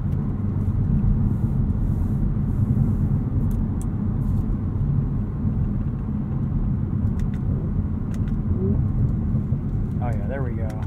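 A 2021 Audi S4 in dynamic mode accelerating, with a steady close engine and road rumble inside the cabin and someone talking over it.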